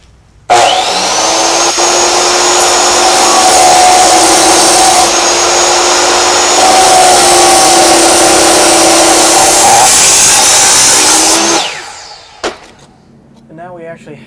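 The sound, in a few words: saw cutting a brick paver in half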